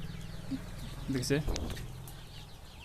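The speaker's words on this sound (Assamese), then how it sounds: "এতিয়া আপোনালোকক দেখাইছোঁ এখন ধুনীয়া লোকেল মুৰ্গী ফাৰ্ম।" Local chickens cluck in short bursts on a small farm holding about 300 birds near Jorhat, with a voice speaking briefly over the nearby calls.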